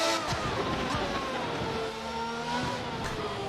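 A V12 race car in a racing video game roars steadily at high revs, a dense continuous engine drone with slight rises and dips in pitch and no break across the few seconds.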